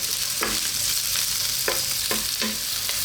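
Steady loud sizzling of onions frying in oil over medium heat fills the whole clip, broken by a few scraping stirs of a utensil in the pan.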